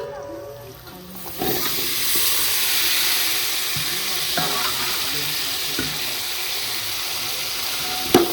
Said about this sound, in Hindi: चलो अब मैं जैसे आलू करती हूँ ऐड।